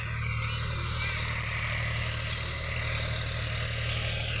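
A heavy tractor engine idles steadily with a low, constant rumble and throb, continuous throughout and fairly close, with no clear speech.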